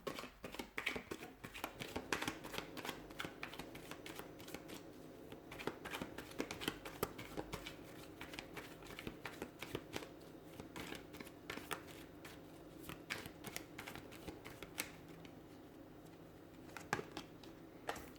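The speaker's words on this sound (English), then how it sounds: "Let's give the cards a shuffle and see what's coming in." Tarot cards being shuffled, a steady run of dense papery riffles and slaps close by for the whole stretch, with no talking over them.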